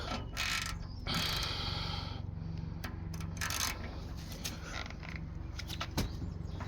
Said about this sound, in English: we'll loosen the nut off and tighten it up, but we'll do it without the extender bar, just the socket and the ratchet